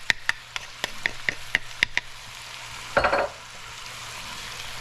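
Garlic cloves hit a hot pan for chicken curry with a sharp hiss that rises and fades quickly, after a run of light, regular clicks and taps. It sounds close, with no talking.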